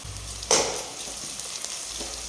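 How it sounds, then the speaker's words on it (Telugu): Ginger garlic paste with curry leaves frying in a pan for street-style veg manchurian, a steady close sizzle with a sharp burst of spatter as the paste goes in, then a continuing low crackle. "అల్లం వెల్లుల్లి పేస్ట్ పచ్చివాసన పోయే వరకు వేపుకోవాలి"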